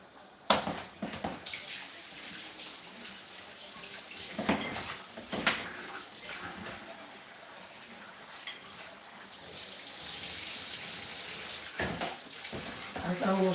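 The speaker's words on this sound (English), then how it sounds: "We rub the rice to pull the excess starch." Rice being washed by hand in water, grains rubbed together to release excess starch, giving wet swishing and sloshing in bursts with occasional splashes and a sustained hiss of running water near the end.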